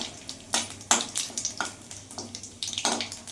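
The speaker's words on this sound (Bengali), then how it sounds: "এখানে ফোড়নে গোটা জিরে দিয়ে দিলাম ফোড়নটা একটু ভাজা ভাজা হয়ে যায়" Whole cumin, a bay leaf and a broken dried chili frying in hot oil for a vegetarian cabbage dish, giving soft crackling sizzles in uneven bursts up close, fairly quiet, with no talking.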